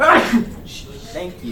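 A single short sneeze bursts out at the start in a classroom chemistry lesson, quickly followed by people talking.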